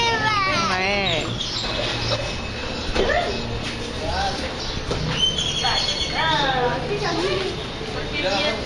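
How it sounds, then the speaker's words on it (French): A horse at a market in Antigua whinnies in several wavering calls amid lively chatter and crowd noise, fairly close and loud, with people talking throughout. "Il y a un cheval."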